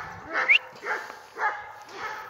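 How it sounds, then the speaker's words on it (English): Dogs bark outdoors in four evenly spaced, fairly near barks, one a higher yelp, with a person's voice faintly present. "There's dogs barking."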